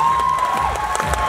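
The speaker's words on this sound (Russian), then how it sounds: "наши аплодисменты." Brief burst of audience applause and cheering at a KVN comedy contest show, a dense crowd noise with clapping and shouts, loud and continuous throughout.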